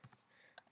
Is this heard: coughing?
no